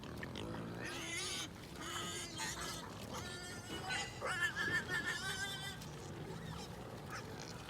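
Farm pigs of mixed sizes, small ones included, crowd in at feeding time while feed is tapped out, giving a jumble of loud squeals, grunts and honking calls in overlapping bursts.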